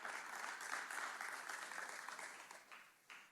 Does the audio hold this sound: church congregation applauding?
yes